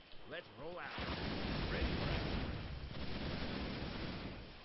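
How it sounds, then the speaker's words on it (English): A plasma missile strike in Warcraft III: The Frozen Throne lands as a loud, sustained rumbling blast that swells and rolls on for several seconds after a brief stretch of voice at the start. "Plasma missile."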